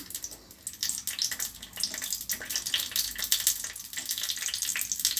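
Cashews and raisins frying in ghee for Chettinad ukkarai sweet, a steady bright hiss and crackle that stays close and fairly loud throughout with no voices.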